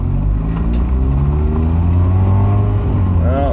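A Mazda Miata drives along, its engine a loud, close, continuous hum with shifting pitch and a brief rising rev at the end, heard from inside the car.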